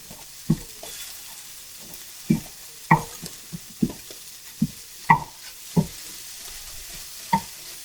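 Tofu scramble broken up and pushed around a hot pan: a soft, quiet sizzle under a series of distinct spatula scrapes and taps, roughly one every half second to second.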